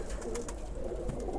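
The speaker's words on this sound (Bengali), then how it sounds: "আমাদের 2টা খাঁচা ভরে গেছে কবুতর দিয়ে" Caged pigeons coo in soft, throaty bursts close by, with a low steady hum underneath and no talking.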